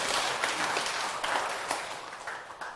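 Audience applause at a Korean Buddhist dharma talk, a fairly quiet, continuous patter of many hands that slowly fades toward the end.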